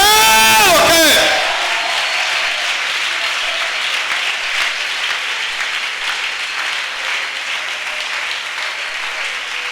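Church congregation bursts into loud applause and cheering during a Spanish-language sermon; a shouted voice opens, then sustained clapping mixed with whoops and crowd noise continues strongly to the end.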